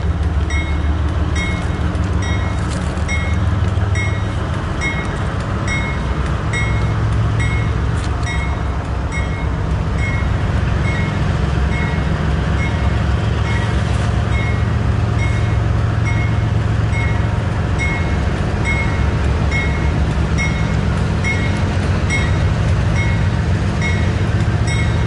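CSX intermodal and mixed freight trains roll past nearby, a loud continuous rumble of wheels and railcars with periodic clicking over rail joints, steady throughout with no talking.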